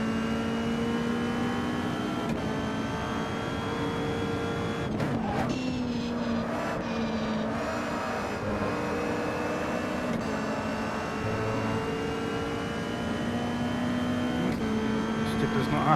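Caterham race cars in a racing game, steady high-revving engine drone from several cars running close together for the whole stretch, with brief scrapes and bumps, while a voice talks over it.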